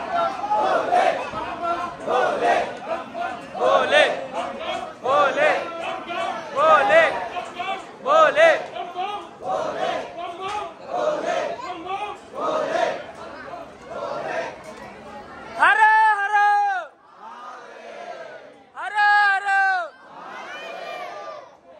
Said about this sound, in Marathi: ही बघा गर्दी, बघा गर्दी लय म्हणजे लय गर्दी आहे